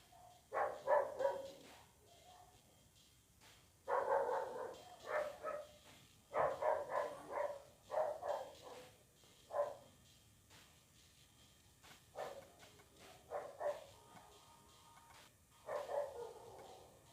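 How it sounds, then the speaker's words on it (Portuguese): Dogs bark in the Silent Hill game, repeated distant, muffled woofs coming in irregular clusters over a quiet background. "Ah, os cachorros latindo o dia inteiro."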